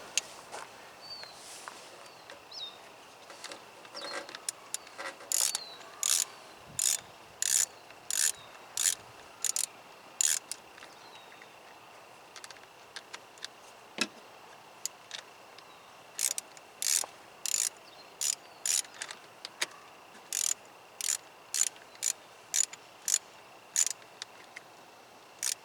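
A wrench ratchets as it tightens a car battery terminal on a 1999 Honda Civic, with a series of quick, close clicking bursts and quiet pauses between them.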